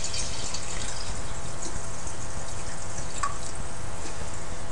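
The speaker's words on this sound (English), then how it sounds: "Fill the jar with water." A glass jar fills with water in a continuous, even trickling stream, close and steady throughout with no talking.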